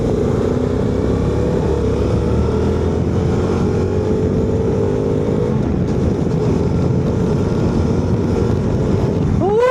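A loud, steady engine drone with a low rumble and some wind buffeting from a motorcycle fitted with a new exhaust running close by, with no talking.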